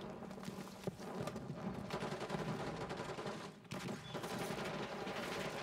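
Dense, continuous automatic gunfire and overlapping shots from a Call of Duty Black Ops 6 beta match, loud and sustained throughout with a brief dip midway.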